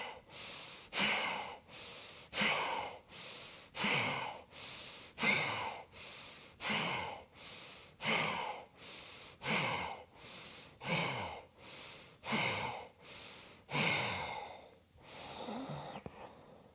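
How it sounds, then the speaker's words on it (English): Repeated deep yoga breaths during a solar plexus chakra practice. About fifteen forceful breaths follow one another in a steady, even rhythm, close and clear, with a softer breath at the end and no talking. "So we're breathing in 10 times, and then we're holding in for a count of 3."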